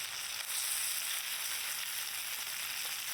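Chopped tomatoes sizzle in a pan of hot oil with bay leaf, whole cumin, cardamom and cinnamon, salted and topped with ginger-green chilli paste, a steady moderate hiss throughout.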